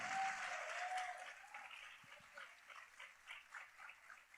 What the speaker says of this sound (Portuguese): eu vou pedir que vocês aplaudam essa visão bonita